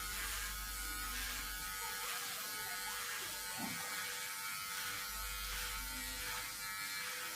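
A rechargeable electric hair clipper buzzes steadily and quietly in a constant drone, with slight changes in tone as it cuts a boy's hair.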